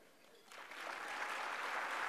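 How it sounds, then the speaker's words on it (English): Audience applause at a state Republican party dinner, rising from a faint patter into steady, full clapping from a crowd at moderate distance. "How about a round of applause for Karen?"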